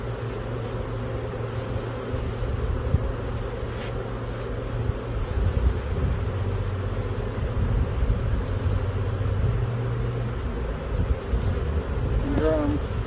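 Honey bees fly around an open hive while a keeper splits it outdoors, a loud close swarm drone that holds steady throughout with individual buzzes passing near.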